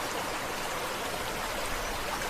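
Water flows steadily beneath a collapsed small wooden bridge in a city park stream, a dense, even rushing hiss with no pauses, close and moderately loud.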